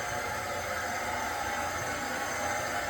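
A rainfall-jet shower in a renovated bathroom with a brick-veneer bathtub surround streams in a steady, even hiss of falling water, close and constant.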